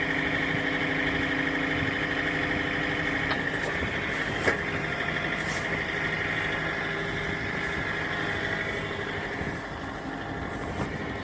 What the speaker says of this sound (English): I have it running about 1500 RPMs.